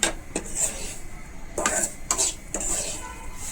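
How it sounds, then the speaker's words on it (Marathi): Semolina is dry-roasted and stirred in a pan over a low gas flame for prasad sheera. Several sharp, irregular scrapes and clinks of the spoon against the pan stand out over a quiet background. "आज मी भाजून घेत आहे छान पैकी"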